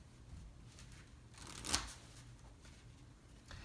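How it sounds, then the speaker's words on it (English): A short riffle of playing cards being shuffled, a brief crisp burst in the middle over faint room noise. "they can actually shuffle up the cards as much as they would like"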